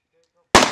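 A single loud shotgun blast on a river duck hunt for mallards and geese, sharp and close, ringing out briefly after near silence.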